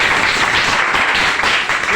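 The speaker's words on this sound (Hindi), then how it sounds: "इनके लिए एक बार तालियां होगा" Loud, steady applause from a class audience for a student who answered correctly, a dense burst of clapping lasting a couple of seconds with some voice mixed in.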